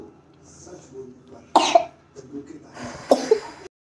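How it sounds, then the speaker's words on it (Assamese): Two harsh, close coughs about a second and a half apart, over a faint background of muffled voices. "বহুত কাহ হৈছে ছোৱালীজনী"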